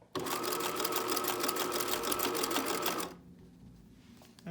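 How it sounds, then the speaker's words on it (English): A sewing machine runs at a fast, steady rhythm for about three seconds, stitching elastic onto bralette fabric, and then stops abruptly. The machine sounds close and clear, with no talking. "I'm just going to sew that short bit."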